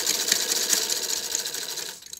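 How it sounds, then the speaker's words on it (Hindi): A sewing machine stitches a child's suit, running in a steady fast chatter of needle strokes at close range for about two seconds before slowing at the end. "तो अभी लगा रहे हैं इसको सिलाई।"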